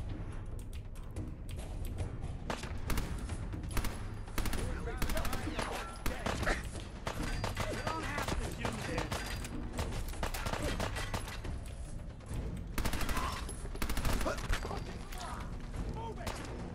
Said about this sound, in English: Shoot him, Nick.